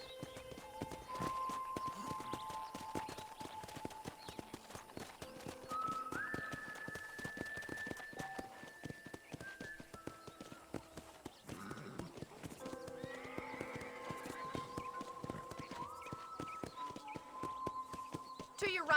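Horse hooves clip-clopping at a ranch in the video game Red Dead Redemption, a steady walking rhythm of close hoof beats under someone talking, with background game music.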